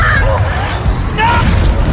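A Bombarda blasting spell goes off in Hogwarts Legacy, a loud, booming burst with rumbling low end, mixed with game voices shouting over the blast.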